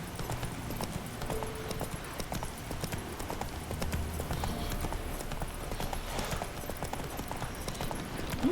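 Horse hooves clip-clop at a steady walking rhythm in the video game The Witcher 3: Wild Hunt, close and continuous beneath soft game ambience.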